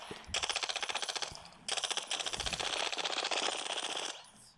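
Video game gunfire in two long automatic bursts of rapid, evenly spaced shots, separated by a brief pause, fairly close and with no talking over it.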